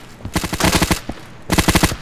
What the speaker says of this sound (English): That bullet cracked.